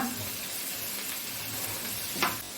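Chopped papaya stir-fry, salted and seasoned with crushed chilli, sizzles steadily in a hot pan while being mixed, with a scrape of the spatula near the end; no one talks.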